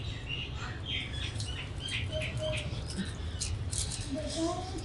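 A small bird chirps and flutters near an outdoor bathroom, faint scattered tweets and brief wing patter over a steady rush of running water, with a voice in the background.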